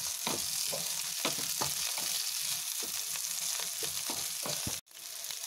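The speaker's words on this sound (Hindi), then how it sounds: "हम अपने आलू को तेज आंच पर भूंजेंगे।" Potatoes fry on high flame in a pan for a chana aloo sabji, a steady close sizzle with bursts of stirring scrapes and spatters, no voices, cutting out briefly near the end.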